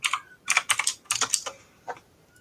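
A computer keyboard clatters in quick, uneven bursts of keystrokes, close and fairly loud, with no one talking over it.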